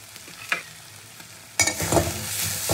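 Chili paste of mixed green, ripe red and dried chilies hits a hot pan for malai prawn curry: quiet stirring noises, then a sudden loud, close sizzle that continues to the end.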